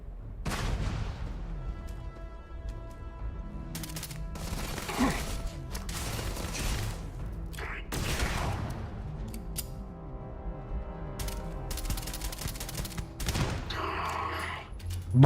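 Repeated sharp blasts and bursts of gunfire-like explosions crackle through the scene in the video game Starfield, several loud bangs scattered over a steady rumbling game soundtrack.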